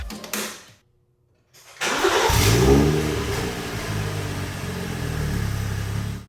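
After a brief pause, a BMW's engine cranks and catches on a replacement battery with a jumper connected, then revs up loudly and settles into a steady, rough running idle close by.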